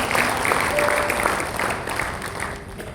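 A church congregation applauds during a Christmas service, a dense, steady wash of clapping hands that fills the room and tapers off slightly toward the end.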